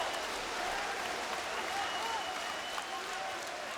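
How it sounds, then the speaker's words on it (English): A large handball arena crowd at a Norway versus Spain European Championship match roars and cheers steadily throughout, a broad continuous wash of voices at a distance with no pauses. "you can hear the crowd cheering him"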